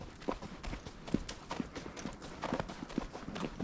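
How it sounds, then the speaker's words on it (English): Horse hooves of a seasoned trail-riding mare on a trail ride, a quiet, irregular clip-clop of steady walking footfalls with faint rustling between steps. "This is a seasoned trail riding horse."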